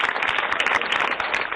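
A studio audience at a Home Minister show in Mamallapuram claps together in a brief, dense burst of applause, close and loud throughout.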